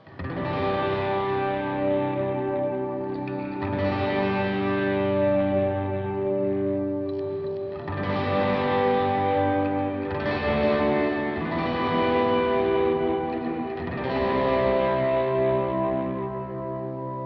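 A sustained, driven electric guitar plays ringing chords and notes with a washy, echoing tail, phrases swelling and overlapping continuously without any talking.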